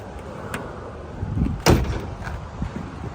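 The solid door of a 1969 Pontiac GTO shuts with a single firm thunk midway through, heard nearby over a steady background hiss.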